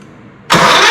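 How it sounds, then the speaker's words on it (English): Small engine on a mini jeep build bursting into life after a short quiet lead-in, jumping abruptly to a loud, close, steady running roar. "see if the engine will start"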